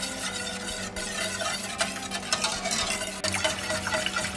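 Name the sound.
stirring caramel pudding mixture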